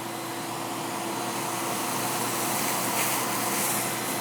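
A shop vac with a floor extension runs steadily while vacuuming a pile of sawdust off a workshop floor, giving a constant, moderately loud motor whine and airflow rush with no talking.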